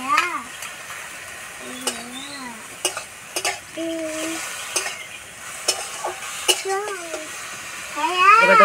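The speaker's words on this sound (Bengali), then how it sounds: "শাক আর বেগুন ভালো করে নেড়ে নেব" Pea greens and eggplant stirred in a frying pan, with a steady sizzle and scraping strokes of a utensil against the pan, while a voice and another voice chirp intermittently over the cooking.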